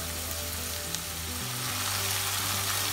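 Onions fry in oil in a pan for a Bangladeshi village-style dish, giving a steady, close, continuous sizzle with low hum underneath and no talking.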